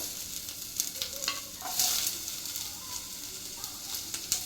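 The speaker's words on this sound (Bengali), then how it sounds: "এবার আমি দিয়ে দিচ্ছি আমার এই এটা দিলাম গ্রিন ক্যাপসিকাম" Green capsicum sizzles softly in a pan, a quiet continuous frying hiss with a few light stirring clinks and no speech.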